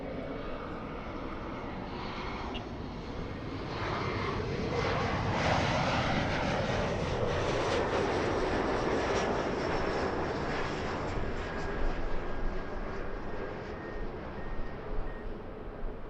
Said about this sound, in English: that 757 on taxiway Echo is an arrival flying in from Boston